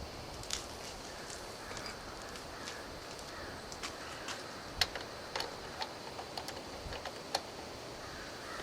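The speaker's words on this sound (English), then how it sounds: "And now we'll go ahead and torque it down." A wrench ratchets in small, faint clicks while tightening the oil filter on a 1991 Mercedes-Benz 420 SEL, with the ticks coming at an uneven pace over low background hiss.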